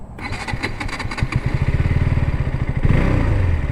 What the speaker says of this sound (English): let's hear the exhaust sound.